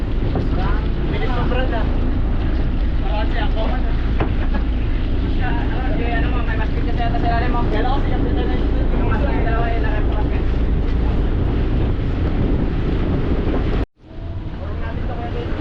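Steady, loud wind buffets the microphone aboard a tour boat off Coron islands in the Philippines, rushing continuously with engine and water noise beneath while people talk nearby, then cutting out abruptly near the end.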